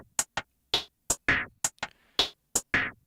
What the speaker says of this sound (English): And then I went and I put it into a shaper box preset, which made it sound like